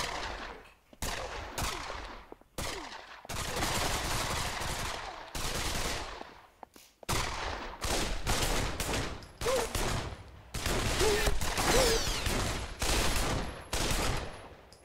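Rapid gunfire from a VR shooter game on a Vive headset, dense bursts of automatic fire with short gaps, loud and close, almost continuous across the clip.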